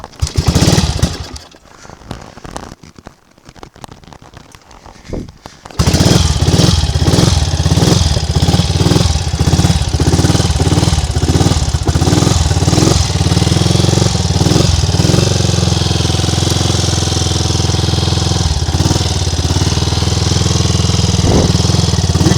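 A Triumph Tiger Cub motorcycle engine starts up after a short stretch of quieter sound, then runs loud and close with a steady, throbbing idle that revs up in uneven pulses, with no talk over it.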